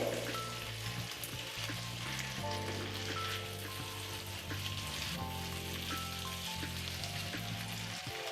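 Hilsa fish curry with cauliflower fries and braises in a pan, with a steady close sizzle and bubbling and occasional stirring scrapes, no voices.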